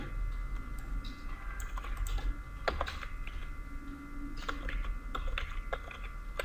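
Keys clatter on a computer keyboard as random code data is entered, with irregular quick taps and small bursts over a low, steady background hum.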